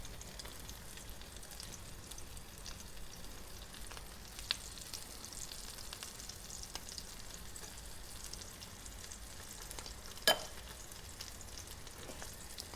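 Salmon cakes frying in a pan on a stove over medium-high heat, a steady, even sizzle throughout with a couple of faint clicks, no voices.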